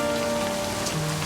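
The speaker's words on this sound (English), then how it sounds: "You shouldn't stay out in the rain any longer." Steady rain pours across a surface in a video game, a dense even hiss that holds at the same level throughout, with no voices over it.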